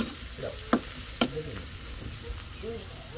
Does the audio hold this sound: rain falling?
no